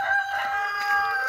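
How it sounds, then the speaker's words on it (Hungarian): A rooster crows in a farmyard poultry flock, one sustained, fairly loud crow heard alone with no talk over it. "Ő kukorékolgat itten szerintem."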